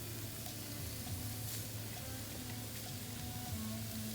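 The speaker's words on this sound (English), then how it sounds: "So now I'm gonna add my onions." Chopped onions sizzle steadily in a hot pan for jackfruit tacos cooked outdoors, a dense, even frying hiss with faint crackles throughout and no talk.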